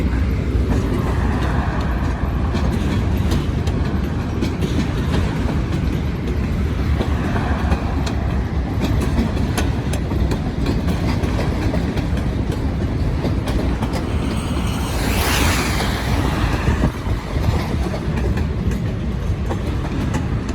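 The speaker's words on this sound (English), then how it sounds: "those are some nice looking locomotives" A long freight train led by locomotives rolls past on rails in Aurora, Indiana. Its steady, loud, close rumble and clattering wheel noise fill the whole stretch, with a brighter screech swelling near the end. No one speaks.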